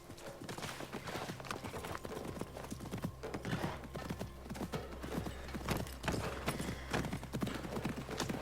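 A horse gallops in Assassin's Creed Mirage, with rapid continuous hoofbeats thudding close and loud, plus an occasional whinny and faint ambient game sound.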